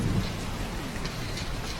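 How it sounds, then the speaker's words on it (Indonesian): Steady rain pours down through a stormy early morning, a constant dense hiss with low thunder rumbling underneath, continuous and fairly loud with no voices. "Masih hujan aja dari subuh nggak berhenti-berhenti."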